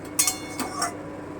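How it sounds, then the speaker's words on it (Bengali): A metal lid lifted off a cooking pot of simmering bitter gourd and potato curry, a couple of light clinks and a scrape, close and brief, with no talking. "এবারে ঢাকাটা তুলে একটু দেখি"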